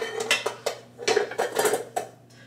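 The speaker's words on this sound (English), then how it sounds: "You can see my butter and my sugar, and we're going to beat it." Butter and sugar being beaten in a bowl, a quick irregular run of clinking and scraping of utensil against the bowl, close and fairly loud, with no talking.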